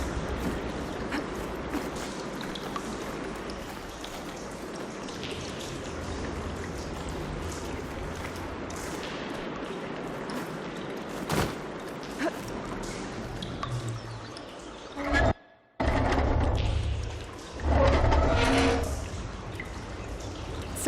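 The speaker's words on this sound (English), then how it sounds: "I can hear water in the room again" Water in Horizon Forbidden West rushes and splashes into a room with a steady, hissing flow, joined by drips and a few louder gushes near the end.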